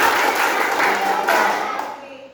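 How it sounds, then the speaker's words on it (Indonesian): Schoolchildren in a classroom do a rhythmic concentration clap together, a dense burst of group clapping that fades out toward the end. "Tepuk konsentrasi."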